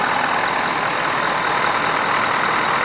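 A 2017 Ford F-250 pickup with a 6.7 liter V8 engine runs steadily, giving a constant loud rushing drone with no change in pitch and no voices.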